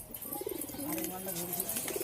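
A pigeon coos in low, rolling, throaty notes close by, while a person talks faintly over it.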